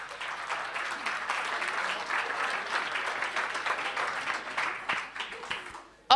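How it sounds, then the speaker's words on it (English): A dense wash of audience applause at a startup pitch event in Stuttgart, steady and fairly loud for about six seconds, fading briefly near the end before a sharp sound cuts in. "Big round of applause for them."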